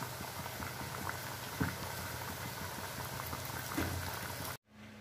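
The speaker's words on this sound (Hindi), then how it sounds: "फ्राई करने के लिए घी में" Mathari dough, a sweet whole-wheat snack, frying in ghee: a steady bubbling crackle runs for about four and a half seconds with a couple of sharper pops, then cuts off abruptly.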